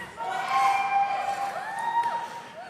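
A crowd cheers and shouts at Donald Trump's presidential campaign announcement in the United States, a sustained roar of voices with whoops, a little distant and heard alone.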